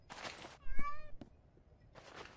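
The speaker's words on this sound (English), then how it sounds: "And this time it's an in-Minecraft cat." An in-game Minecraft cat gives a single short, clear meow between broadband bursts of game sound, close and distinct with no talking over it.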